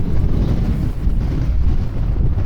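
Strong mountain-top wind buffeting a lav mic, a loud continuous low rumble with gusty fluctuations and no clear voices.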